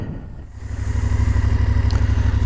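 A BMW F750GS motorcycle pulls away on a solo adventure ride in Norway, its engine building to a steady, pulsing throb close to the microphone with wind noise layered over it.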